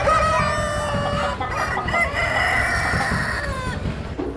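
Chickens cluck and squawk close by at a state fair farm exhibit, overlapping calls with a rooster-like crow, continuous and fairly loud against a barnyard background.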